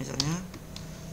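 Keys on a computer keyboard are struck, with the Enter key pressed, giving two sharp, faint clicks about a second apart over a low room hum and a faint voice.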